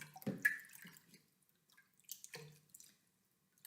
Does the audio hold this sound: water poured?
yes